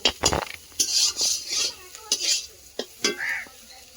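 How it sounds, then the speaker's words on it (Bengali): Bitter gourd slices fry in oil in a pan, with stirring scrapes and metallic clinks of a spatula against the pan in irregular bursts over a soft sizzle, close and fairly loud, no talking. "উচ্ছেটা আমার ভাজা হয়ে গেছে"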